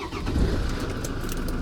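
A 2011 Land Rover Defender engine cranks and catches, a close low rumble swelling briefly and then settling into a steady idle, with no talking.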